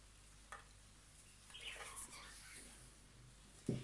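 Faint sizzle of onion added to olive oil in a hot pan, with soft stirring scrapes and a brief clatter near the end, quiet and close.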